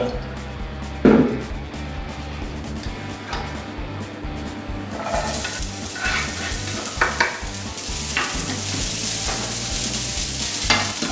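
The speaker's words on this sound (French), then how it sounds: "Dans un premier temps, nous allons faire revenir les échalotes." Shallots sauté in a pan, a soft sizzle starting quietly and growing brighter and louder after a few seconds, with scattered stirring clicks and scrapes, alone and close.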